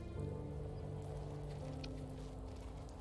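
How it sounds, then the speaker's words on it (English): Steady rain falls in the stylized fox adventure game The First Tree, a continuous soft hiss of drops on surfaces running evenly throughout with a low musical drone beneath it. "Ah, the rain."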